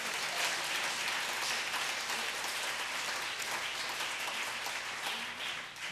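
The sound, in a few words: church congregation applause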